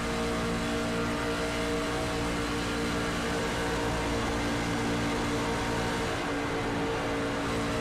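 Stock car trucks race at Talladega Superspeedway in a racing video game, their engines a dense, continuous droning roar that dips briefly near the end as they lift off the throttle.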